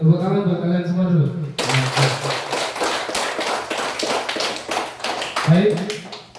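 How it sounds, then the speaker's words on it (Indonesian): A classroom of students claps hands together in a dense, sustained burst of applause lasting several seconds, with a teacher speaking just before and as it trails off. "tepuk tangan buat kalian semua dulu."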